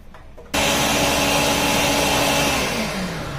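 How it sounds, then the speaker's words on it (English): A loud kitchen blender whirs at full speed mixing flan ingredients, starting abruptly after a brief quiet moment and holding a steady, dense motor roar with a slight pitch drop near the end. "let us get that blended, because as you know from previous videos, our blender is kind of loud"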